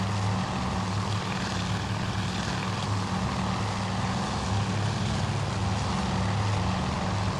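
Propeller aircraft engines in Task Force Admiral drone steadily and loudly, a thick continuous hum with a low throbbing undertone that holds constant without voices.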